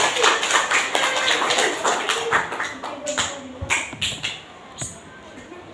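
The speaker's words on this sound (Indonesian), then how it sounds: "Tepuk tangan dong buat Rara." Children at an Islamic holiday school class clap for a classmate, a burst of scattered hand claps that thins into separate sharp claps, with talking mixed in near the start.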